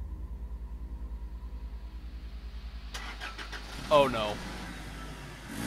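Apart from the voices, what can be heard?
car engine starting and revving in Cry of Fear video game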